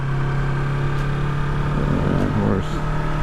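A motorcycle engine runs steadily up close, its low rumble rising slightly as it revs near the end.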